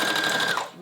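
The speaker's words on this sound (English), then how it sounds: "I'm going to top stitch it down right here." Sewing machine top stitching fabric on a doll pattern whirs in a quick, close burst that winds down and stops within a second.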